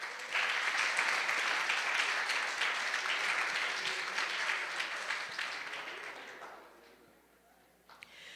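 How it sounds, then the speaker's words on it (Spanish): An audience applauds a speaker at a history lecture, with loud dense clapping that holds steady and then fades away toward the end, leaving a quieter room. "Le brindamos un fuerte aplauso, por favor."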